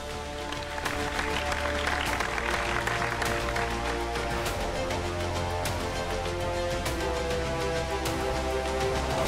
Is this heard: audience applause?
yes